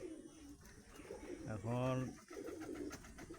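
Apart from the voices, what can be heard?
pigeons cooing near cage at dusk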